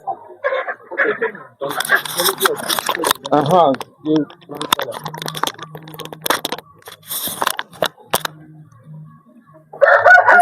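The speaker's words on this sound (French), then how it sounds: "Ici, nous sommes dans un poulailler des Goliaths qui sont au moment de vente." Goliath chickens crowing and clucking inside a chicken coop at a rural training centre in Togo, with several calls under and between close talk.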